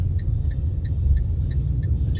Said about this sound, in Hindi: देखो बारिश में गाड़ी चलाने का मज़ा ही कुछ और है यार